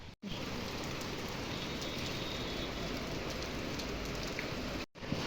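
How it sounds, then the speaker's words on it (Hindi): Heavy rain pouring steadily onto a rooftop, a dense continuous hiss and patter heard close up, cutting off briefly at the start and end. "आपको दिखाऊँ मैं कितनी तेज़ बारिश हो रही है, बूंदाबांदी"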